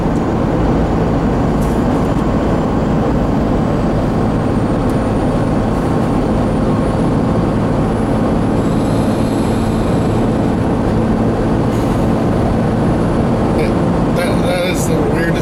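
Loud, steady engine and road drone from inside a truck cruising fast on a highway, a continuous broadband rumble with occasional brief rattles and clicks near the end, with no talk.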